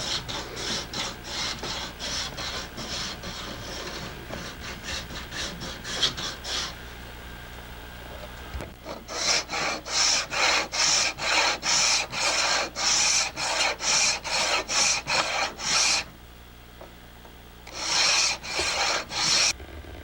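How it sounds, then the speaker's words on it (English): An old hacksaw blade rasps back and forth across wood as grooves are cut, in steady bursts of strokes with a short pause midway and a brief break near the end. "I can take this metal strip off, just an old hacksaw blade, and then cut the grooves normally"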